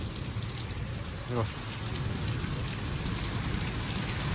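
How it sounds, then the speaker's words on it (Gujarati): Steady monsoon rain during a cyclone in Gujarat patters down continuously, a close, even hiss of drops on surfaces, with a brief faint murmur partway through. "વરસાદ વરસાદ ચાલુ થઈ ગયો"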